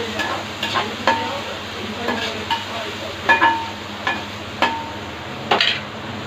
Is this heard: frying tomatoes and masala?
yes